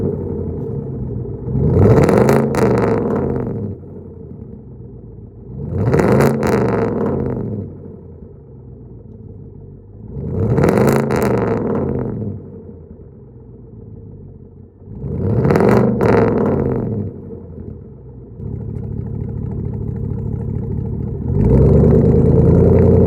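A Chevrolet Silverado 5.3 V8 with true dual catback straight pipes idles close by, its aggressive rumble cut by four loud revs that swell and fade at even intervals before settling back to idle.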